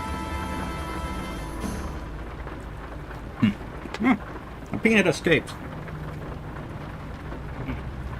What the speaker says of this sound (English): when it's raining, you're supposed to listen to the rain